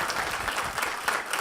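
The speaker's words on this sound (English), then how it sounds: "let's give a round of applause to Elaine for doing such a great job." Short burst of audience clapping at a town hall meeting on human trafficking, close and lively with uneven individual claps, no talk.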